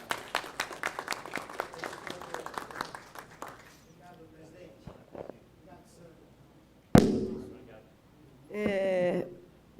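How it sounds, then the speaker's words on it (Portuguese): A burst of clapping from people in a São Paulo city council chamber during a plenary session rises briefly after speech, followed by scattered noises and a short spoken exchange. "eu gostaria de oferecer uma salva de palmas"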